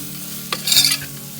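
Onions sautéing in a pan for chicken kulambu, with a low steady sizzle under a quick spatula scrape and a short burst of brighter frying hiss, close and brief.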